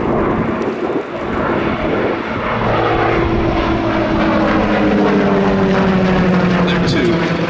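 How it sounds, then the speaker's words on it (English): A piston-engine Percival Provost trainer flies past at an air show, its droning engine loud and rising with a sweeping pitch change, while a voice talks over it. "the transition of this design from the piston engine Provost we see here"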